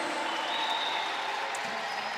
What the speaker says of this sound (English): And the crowd welcoming Vanessa De Jesus back in the game